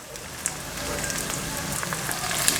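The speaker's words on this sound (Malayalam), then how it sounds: "ഒന്നും കൂടി നല്ലതുപോലെ ഇളക്കി കൊടുക്കാം." Onions for a Kerala-style beef curry fry in a pan with a continuous soft sizzle and light crackling, and a few faint stirring clicks can be heard. No one speaks.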